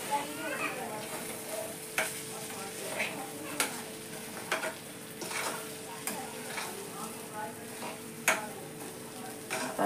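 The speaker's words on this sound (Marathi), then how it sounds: "आता आपण झाकण काढून मस्त असं सगळं मिक्स करून घेऊया।" Semolina sheera is stirred and mixed in a pan, with repeated crisp scrapes and clacks of the spoon against the metal over a soft sizzle, rhythmic and close, with no speech.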